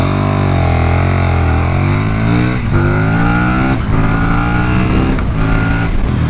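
A 2017 KTM Super Duke 1290 R on its stock exhaust revs hard and loud, the pitch climbing through several gear changes with short dips between pulls, close and continuous.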